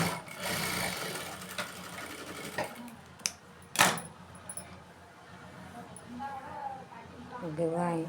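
A sewing machine stitches along a blouse lining edge in short uneven runs, amid clicks, a sharp knock and handling sounds, with a person talking over parts of it.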